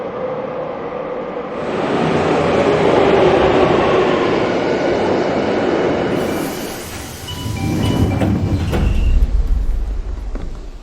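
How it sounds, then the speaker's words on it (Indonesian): A subway train rumbles through an underground station in a film scene, a broad roaring wash that swells and eases, then heavy low rolling and clanks near the end. "sedang berada di sebuah stasiun kereta bawah tanah."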